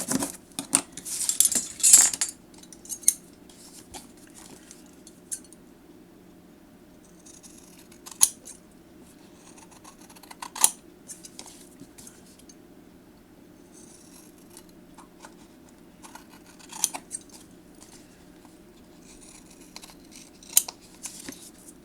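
Scissors trim paper for a journal, giving a few sharp snips and small clicks spread across a quiet stretch, near and fairly faint.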